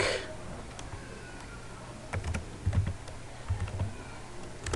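Computer keyboard typing, a few scattered keystroke clicks followed by short bursts of quicker taps, moderately close and alone with no talking.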